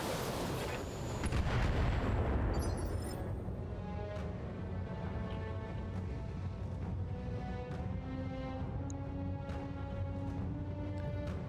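In the BattleTech video game, mech weapons fire in a heavy booming volley followed by rumbling impacts and rhythmic mechanical clanks, loud and dense throughout.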